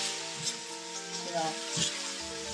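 Steady loud sizzling of flank steak deep frying in hot oil, continuous crackle throughout with faint clinks beneath.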